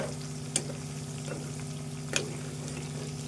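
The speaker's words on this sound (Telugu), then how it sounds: "ఈ ముంటికాడలను దూరగా వేయించుకోవాలి ఎక్కువసేపు వేంపద్దు" Pieces of drumstick (moringa pods) fry in a pan for a pickle, giving a steady soft sizzle with a low hum underneath and two brief louder crackles.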